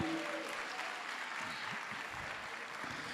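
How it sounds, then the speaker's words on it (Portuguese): A church congregation claps during a worship sermon, a soft, distant wash of many hands heard faintly in a large room, steady throughout with a low tone or hum lingering beneath. "aplauda Ele"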